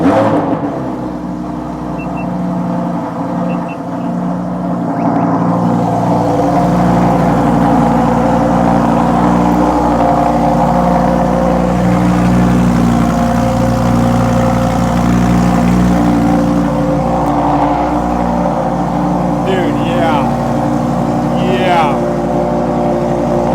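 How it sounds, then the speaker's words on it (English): A Lamborghini engine fires up and settles into a loud, steady idle with a deep droning tone that holds for the whole stretch, while someone talks over it. "Let's start this thing up."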